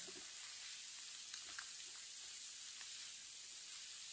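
An omelette with cucumber sizzles steadily in a pan, a close, even frying hiss that holds at one level throughout with no voices.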